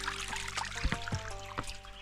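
Stream water trickles and splashes over rocks along a walking path, a steady close broadband wash with small irregular bubbling bursts throughout.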